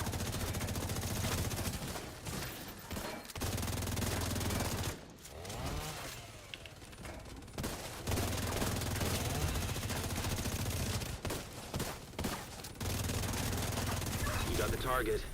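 Repeated video-game gunfire aimed at an enemy target, loud bursts in several stretches with brief pauses between, mixed with game sounds and some talking.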